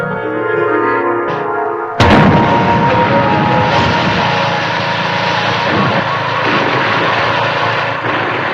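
A sudden loud blast cuts in, followed by a sustained heavy rumble and roar that continues without pause, with no talking.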